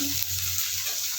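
Discarded vegetable peels and green chillies sizzle in a pan, a steady, soft, even frying hiss with no clear breaks.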